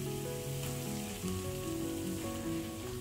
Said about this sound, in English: It's time to add the tomato puree.